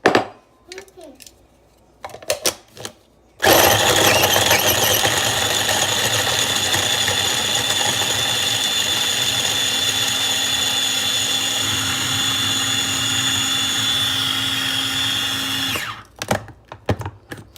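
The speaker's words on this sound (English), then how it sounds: "We're gonna put the carrots inside of the food processor." A food processor chops carrots with a loud, steady whirring motor that runs for about twelve seconds, framed by brief handling clatter and short bursts of talk before and after.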